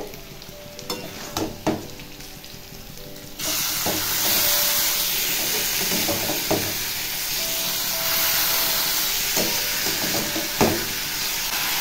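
Fried fish heads stirred in a wok with a steady loud sizzle and hiss, and a spatula scraping and knocking against the metal at intervals, close and with no talk.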